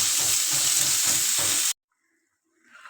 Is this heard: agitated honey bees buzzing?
no